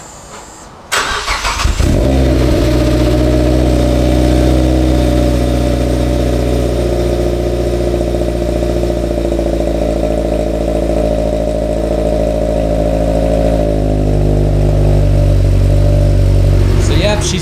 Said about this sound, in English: let's start the car. You guys haven't heard it in a while.